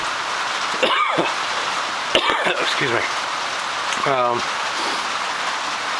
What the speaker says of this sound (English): and the rain picked up